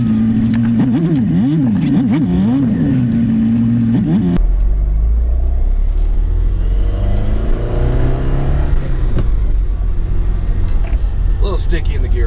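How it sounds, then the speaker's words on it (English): A 1976 Alfa Romeo Alfetta GT with a small four-cylinder engine, running cold, its loud close idle and revs under a rough droning rumble, with someone talking over it. "it's 1976 Alfetta GT by Alfa Romeo. It's got a tiny little 4-cylinder"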